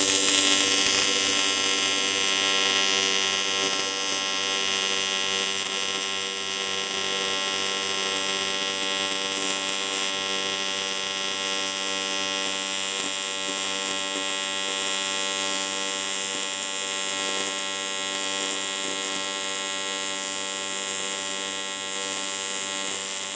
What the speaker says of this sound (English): But I'll weld this side up before grinding any more out of there.